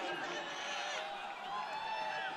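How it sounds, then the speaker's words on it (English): Yale fans give an ovation from the crowd at a women's college basketball game against Michigan State, a steady wash of cheering and applause held at a moderate distance throughout. "she's getting a ovation from the Yale fans in the crowd"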